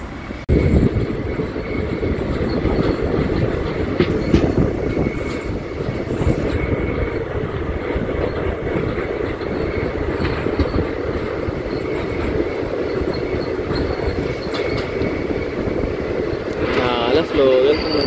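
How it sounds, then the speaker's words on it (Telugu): An Indian Railways Charlapalli–Tirupati special train rolls slowly near Jamia Osmania station, a continuous close rumble of wheels and carriage noise with faint squeals near the end, under someone speaking intermittently. "స్లో వెళ్తుందండి ట్రైన్."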